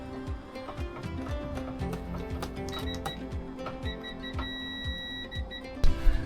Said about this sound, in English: What we're doing now is we're going to be tightening these keel bolts.